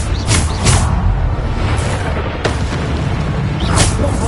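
A Bombarda spell explodes in a magic video game as several booming blasts with sharp bursts, spaced over a few seconds against a dense, rumbling background.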